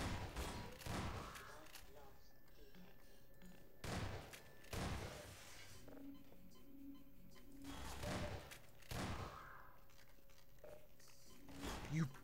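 Gunfire in the Half-Life 2 video game, with repeated heavy shots spaced a second or two apart against a steady background hum, close and moderately loud.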